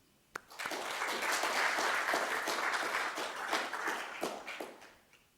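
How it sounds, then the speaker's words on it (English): Audience applause for postgraduate students at a university agriculture showcase, a sustained burst of many hands clapping that starts abruptly, holds steady, then tapers off near the end. "please give an extra round of applause for our students"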